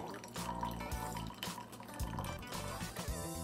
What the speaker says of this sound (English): Then push the plunger down to the bottom. Pour, and voila, rich tasting coffee in the French tradition.